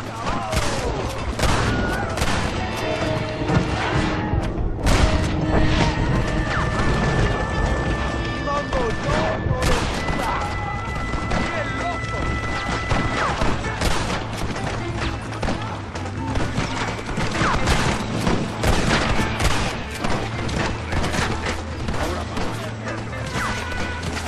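Dense, rapid gunfire from the Western video game Red Dead Redemption crackles loud and near for over twenty seconds, with sharp crashes, impacts and hoofbeats mixed in under frequent talk.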